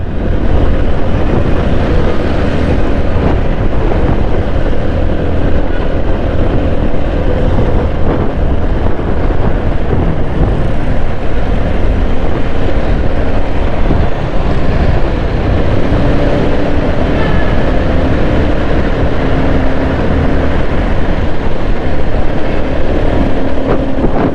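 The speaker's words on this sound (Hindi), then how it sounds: "तेज़ चला रहा हूँ मोटरसाइकिल" A motorcycle ridden fast on a city road, with constant loud engine roar mixed with heavy wind buffeting on the microphone throughout, no speech.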